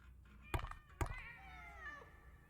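A cat in the video game Sense: A Cyberpunk Ghost Story gives a drawn-out, wavering meow right after two sharp thumps, fairly clear over a low background hum.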